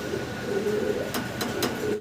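Pigeons coo steadily close by in a loft of fancy pigeons, with low rolling calls layered over one another and a few soft clicks near the end.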